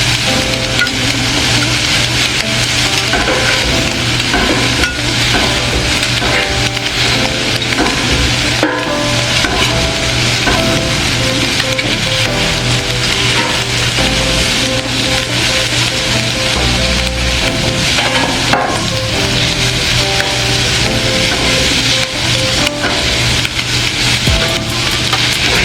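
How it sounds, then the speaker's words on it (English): Chicken fried rice sizzles on a hot outdoor grill while a metal spatula scrapes and stirs it, a loud continuous crackling fry with constant rough scraping close up. "He's scratching this grill."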